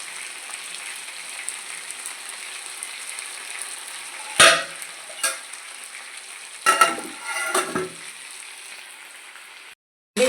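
Ginger, garlic and green chili frying in ghee: a continuous close sizzle with a few louder bursts of crackling and stirring, breaking off abruptly near the end.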